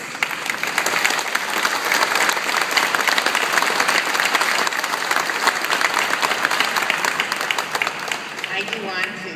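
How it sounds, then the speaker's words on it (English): An audience at an honor ceremony bursts into sustained applause, dense clapping from many hands filling the space for several seconds before thinning out at the end. "I ask you to give him a round of applause"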